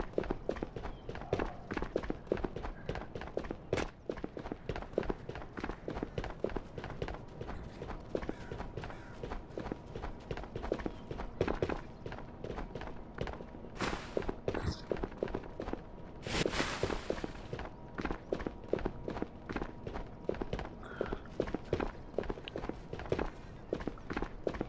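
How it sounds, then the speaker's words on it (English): Rapid footsteps running in a shooter video game, a steady stream of close, crisp steps with a few louder bursts and no talking. "I'm hearing footsteps."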